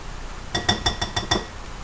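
A teaspoon clinks six times in quick succession against a bowl while Hershey's cocoa powder goes into chocolate chip banana muffin batter; the taps are bright, close and evenly spaced with no talking.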